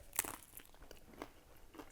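A bite into something crunchy topped with brie gives a few short, crisp crunches, close and fairly quiet, followed by softer chewing.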